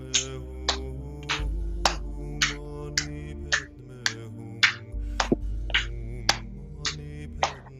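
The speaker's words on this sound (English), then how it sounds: "And then we're going to go front and back clap." Sharp hand claps during a yoga flow, front and back, land in a steady rhythm of about a dozen evenly spaced strikes over soft background music.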